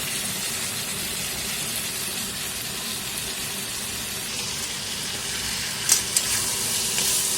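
Goat mutton curry with masala frying in oil in a pan, a continuous dense sizzle like steady rain, with a couple of brief utensil knocks near the end.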